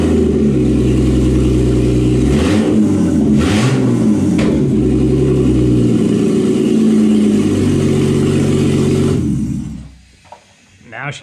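A BMW M52TU/M54 inline-six in a kart-style car on an M50 intake manifold conversion starts, then holds a loud, steady idle with brief rev blips before cutting off near the end.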